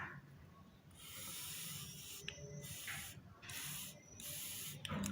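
Air blown in short, breathy hissing puffs through the carburetor float valve of a commercial pressure washer's gasoline engine, several bursts close to the microphone separated by brief pauses.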